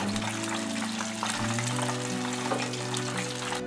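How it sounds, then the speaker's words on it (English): Steady, dense sizzling and bubbling of Korean chicken wings deep frying in oil at 160 degrees Celsius, constant and close, with a low hum underneath. "pieces in the oil at 160 degrees Celsius for 8 minutes."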